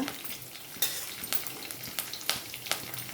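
Unhulled lentils and cumin seeds frying in a pan: a quiet, steady sizzle with repeated crisp crackles and scraping stirs at irregular intervals.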